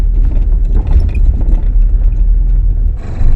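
A car rolling slowly along a narrow rough path gives a loud, close, continuous low rumble of engine and tyres on uneven ground, steady throughout.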